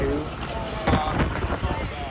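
Strong gusting wind buffets the microphone outdoors at an EDC festival, producing a constant rough rumble with sharper bursts, while voices are faintly audible underneath.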